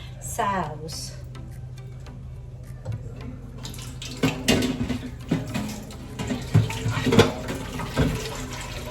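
Water pours and splashes into a cooking pot of sauce, with clattering utensil knocks and a voice talking over the sound.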